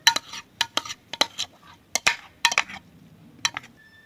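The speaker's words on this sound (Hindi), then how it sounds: "उसके बाद दोस्तों हमने जो दही और क्रीम है दोस्तों, दही और क्रीम देखें, ये सारी इसके अंदर हमने मिक्स कर लेनी है।" A spoon clinks and scrapes against a bowl while yogurt and cream are mixed into Kabuli-style fruit chaat. The sharp, irregular taps come close and clear, with short pauses between them and no talking.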